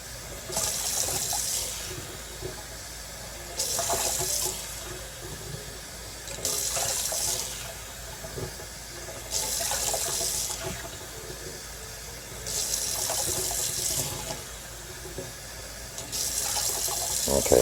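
Water pours from a tap into jars for canning blueberries in a kitchen, six separate bursts of splashing fill roughly every three seconds, each a few seconds long with quiet gaps between, moderately close and without talk.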